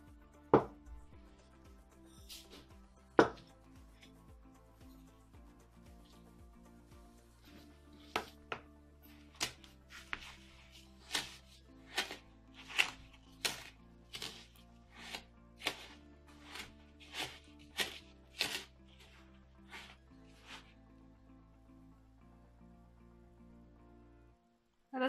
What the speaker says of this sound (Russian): Размешиваем.